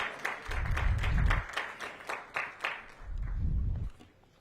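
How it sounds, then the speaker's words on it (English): An audience at a National Black Caucus of State Legislators gathering gives a round of applause: scattered hand claps that swell into moderate clapping, fade, then surge again briefly, heard at a moderate distance. "I would like for each one of us to give a round of applause for the fact that you're here"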